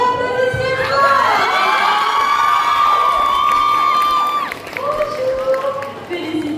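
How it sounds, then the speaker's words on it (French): A crowd cheers at a cosplay contest during a fantasy and Japan fan convention, with loud, sustained high-pitched shouting and whoops and light applause underneath, fading slightly toward the end. "On l'applaudit très fort."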